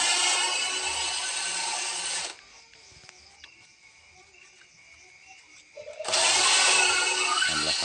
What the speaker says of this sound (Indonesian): Jadi bornya itu dihidupkan, nanti asnya akan memutar, kemudian kita amplas.